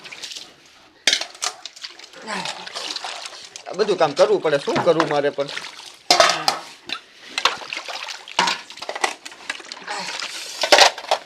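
Two pots and dishes being washed by hand with water, clinking and clattering in short bursts beneath steady talk in Gujarati.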